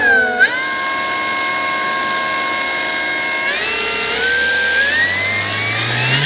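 Electric motor of an FMS Fox 3m RC glider spinning up for a hand-launched takeoff, a steady loud whine that holds its pitch and then rises higher, close by with no talk.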